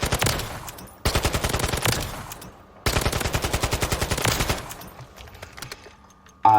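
Bursts of automatic gunfire from a gun in the video game Warzone 3, three long rapid-fire strings separated by brief pauses, loud and close with no talking.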